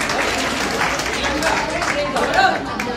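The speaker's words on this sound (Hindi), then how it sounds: "जोरदार तालियां हो जाए इनके लिए" Audience applause at a motivational talk on the power of concentration, dense clapping from a crowd with some cheering, loud and steady for a few seconds.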